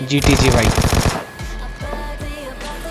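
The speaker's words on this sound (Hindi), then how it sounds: "अपार्टमेंट से गोलियां चल रही हैं" Rapid automatic gunfire from PUBG Mobile Lite gameplay bursts loud and dense through the first second, then a few heavier individual shots follow over a low rumble while someone speaks briefly.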